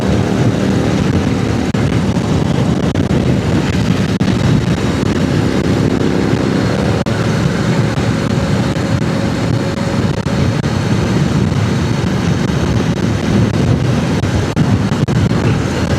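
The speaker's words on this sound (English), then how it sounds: "Lots of bikes out tonight." Several motorbikes pass by at night in a city street, a steady, loud, continuous engine roar and rumble that persists throughout with no clear gaps between passes.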